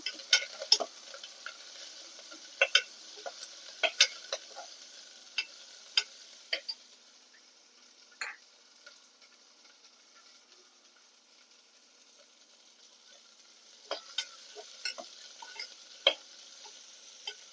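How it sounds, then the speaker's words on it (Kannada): Chopped onion frying in a pan with curry leaves for a village-style avarebele sambar: a faint steady sizzle with scattered sharp spoon-on-pan clicks, busier at the start and again near the end. "ಒಂದು ಈರುಳ್ಳಿ ಕುಯ್ದಿಟ್ಕೊಂಡಿದೆ ಅದನ್ನು ಸ್ವಲ್ಪ ಫ್ರೈ ಮಾಡ್ಕೊಳ್ಳೋಣ"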